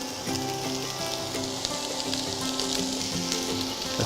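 Onions and garlic hit a hot pan of light rapeseed oil for a fish stew, giving a dense, even sizzle close up with faint clinks and tonal hum under it, and no talking.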